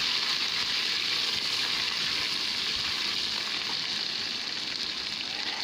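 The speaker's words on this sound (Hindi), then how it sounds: "अब मैं लहसुन अदरक का पेस्ट डाल के इसे अच्छे से फ्राई कर लूँगी।" Garlic ginger paste frying in a pan for a mutton and potato curry, a steady, even sizzle throughout with no talking.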